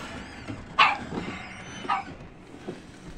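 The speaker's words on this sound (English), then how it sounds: "And the dog barking." A dog barks twice indoors, a sharp bark followed about a second later by a softer one, over a quiet room with low background hum and no talking.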